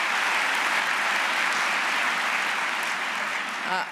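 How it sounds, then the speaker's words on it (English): A large crowd at a Let's Move! anniversary event breaks into dense, sustained applause that holds steady and loud throughout, then begins to fade at the very end. "So let's give them a wonderful round of applause."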